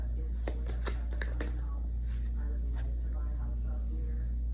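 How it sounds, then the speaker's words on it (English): Tarot cards being shuffled at close range, a few crisp riffling bursts in the first second and a half, then softer handling under a steady low hum. "I'm going to shuffle these again."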